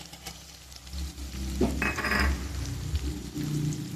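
Ginger garlic paste fries with softened onion and tomato in a pan for a mutton fat lentil fritter curry, giving a steady close sizzle with stirring scrapes and light utensil clinks.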